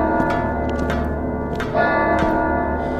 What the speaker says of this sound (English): That bell is just ringing.